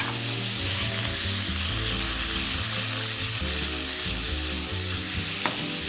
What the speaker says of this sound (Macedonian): Ќе ги подпржиме во масло